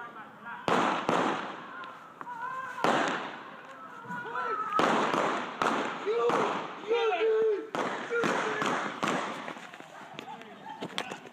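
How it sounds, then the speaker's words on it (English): Sharp bangs of police gunfire crack out repeatedly at irregular intervals during a street shooting, loud and echoing over background voices and commotion. "Police won't say how many shots were fired"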